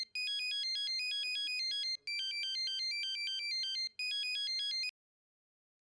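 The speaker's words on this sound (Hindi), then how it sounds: "फोन क्यों नहीं उठा रहा है?" A mobile phone ringtone plays a bright, repeating electronic melody in three loud, clear bursts with short gaps, heard alone with no talking.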